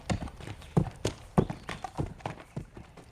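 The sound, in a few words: horse Abby walking with rider, hoof clip-clop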